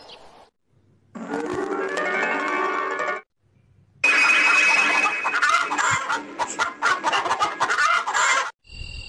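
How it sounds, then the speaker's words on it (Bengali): Cartoon chickens cluck and squawk in agitated bursts, a short flurry followed after a brief pause by a longer, louder stretch of busy clucking and fluttering, with no talking. "এক রাতে মুরগিগুলার শব্দে বুড়ির ঘুম ভেঙে গেল"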